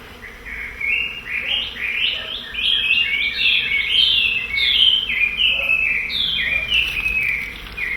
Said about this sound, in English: Omao.